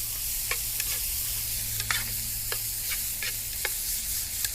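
Food sizzles in oil in a backpacking fry pan over a camp stove, a steady hiss with small crackles and scraping stirs throughout, under a low burner hum.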